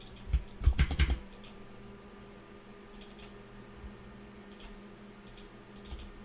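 Fingers type on a computer keyboard in a quick close burst of clattering keystrokes, followed by a quiet stretch broken by a few faint, sparse clicks.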